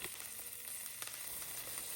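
Mustard and cumin seeds with garlic, red chilies and curry leaves sizzle and crackle in hot olive oil in a pan, a close, continuous fizz with small pops.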